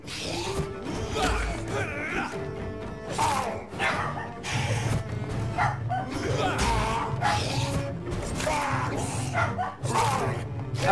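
Dogs barking aggressively in the video game Vampyr, sharp repeated barks arriving in uneven bursts across the scene, fairly close and loud, mixed with game sounds and a player talking.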